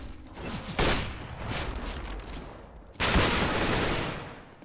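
Pistol gunfire in a CS:GO competitive match, rapid shots crackling in two sharp loud volleys over a noisy in-game background.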